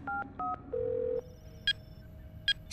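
In a cartoon, a phone dials a call: a few quick keypad tones, a longer tone, then faint electronic beeps and ringing chirps as the line connects.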